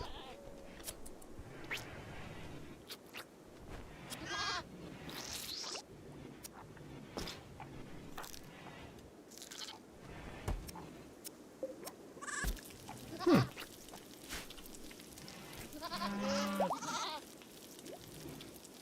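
Sheep bleating in the video game RimWorld, several short bleats scattered among game sound effects and clicks across the stretch, moderately loud with faint background.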